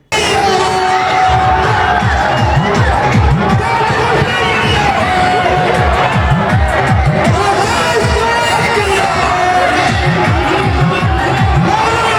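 Dense crowd at a political rally in Darbhanga, Bihar, roaring and cheering steadily throughout, loud and continuous with shouting voices and babble mixed in, as a leader attacks the BJP from the stage.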